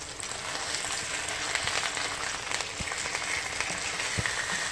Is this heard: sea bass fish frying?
yes